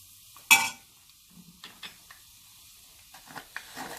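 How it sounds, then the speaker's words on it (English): A spoon stirs spiced broad bean curry seasoned with Kashmiri chili powder in a pot, one loud scrape followed by quieter clinks and soft sizzling scrapes, with no talking. "Kashmiri chili powder is mere for the color and the fragrance. and you give that a nice mix."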